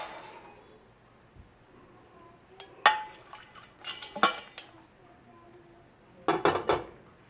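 Roasted ingredients for Chettinad manaholam are tipped into a metal basin, giving a few scattered clinks and scraping clatters, with two louder bursts of metallic rattling against a quiet room.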